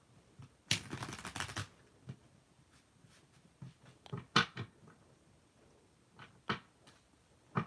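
A deck of tarot cards is shuffled close up, with a dense riffling burst near the start followed by scattered soft snaps and taps, fairly quiet in a still room.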